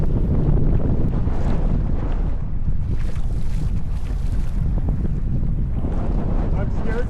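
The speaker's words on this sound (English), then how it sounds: "Because the trolling motor was overheating at full power, I only run it at speed 4 out of 5." A boat's trolling motor runs steadily at its fourth of five speed settings on Mono Lake, a continuous low drone mixed with heavy wind buffeting across the microphone and water noise throughout.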